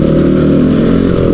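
A Crossfire RM 250 off-road motorcycle's engine runs loud and steady at a held throttle, a dense low-pitched drone close by with no talk over it.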